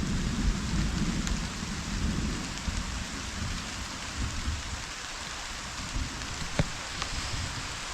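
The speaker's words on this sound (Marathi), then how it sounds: "हे बघा घडघडतं आहे बघा जसं पावसात वातावरण असतं ना" Heavy April rain pours steadily while deep thunder rumbles low and continuously, with a few sharp drips or cracks standing out.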